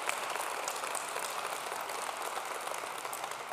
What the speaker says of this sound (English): The applause was started by Nick Jones